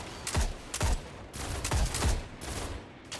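Gunshots ring out in a video game, with four or five loud, booming reports at an uneven pace, each leaving a brief echoing tail.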